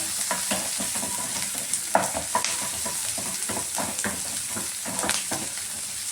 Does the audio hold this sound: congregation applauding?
no